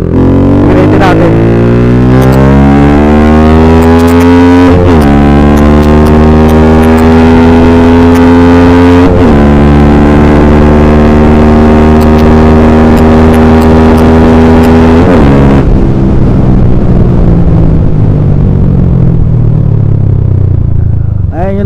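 A Flame150x motorcycle with an open pipe muffler and 51mm stainless elbow revs hard at full throttle, loud and close, climbing through several rising surges, then dropping back to idle with a fading note.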